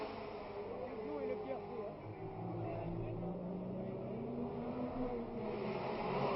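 Formula 1 cars at the 1967 Monaco Grand Prix give a faint, continuous engine whine and roar in the background, heard beneath ongoing commentary.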